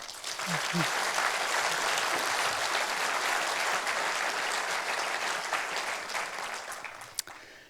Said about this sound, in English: I would like to give them a big hand of applause for that.